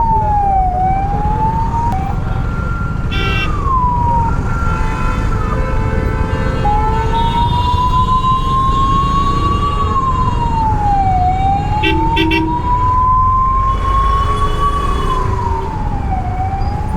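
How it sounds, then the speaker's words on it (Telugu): An ambulance siren wails in rising and falling sweeps, loud and close over the rumble of city traffic in Hyderabad, with brief horn blasts in between. "అంబులెన్స్కి దారి ఇవ్వండిరా"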